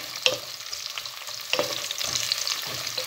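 Onions sautéing in a pan for sinanglao, giving a continuous crackling sizzle broken by several sharp stirring scrapes and clinks of the utensil, close and fairly loud, with no voices.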